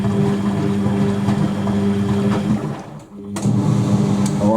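An Indesit WN1196WG washing machine runs its rinse cycle with a steady motor hum and sloshing drum. The sound dips to a short near-quiet lull, then resumes at the same level.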